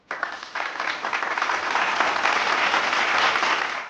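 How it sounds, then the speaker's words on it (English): A large audience applauds steadily to welcome a guest speaker at a talk on knowledge and resilience, a dense, sustained wash of clapping that swells after a quick start and holds evenly throughout. "Keep clapping, ladies and gentlemen"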